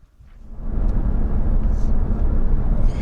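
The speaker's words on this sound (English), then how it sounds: "drove over to Rembrandt's place, rustled him into my car, and we took off" A car pulls away on a morning drive, its engine rumble swelling over the first second and then holding steady and close, a low continuous road drone with no voices.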